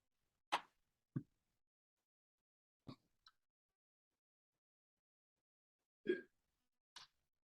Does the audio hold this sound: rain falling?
no